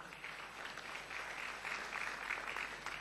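A church congregation applauds during a sermon, a steady, even wash of many hands clapping at a moderate, slightly distant level, holding without a break throughout.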